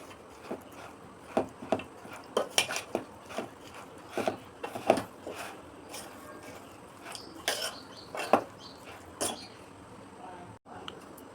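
Semolina batter mixed with salt in a bowl, heard as a series of soft, irregular scraping and tapping strokes at close range, with no voices.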